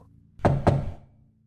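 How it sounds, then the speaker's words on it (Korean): Two firm knocks on an apartment door at night, close and dry, spaced a fraction of a second apart with a short thudding decay and no voices. "나는 문을 두드렸지만 아랫집에서는 아무런 반응도 없었다."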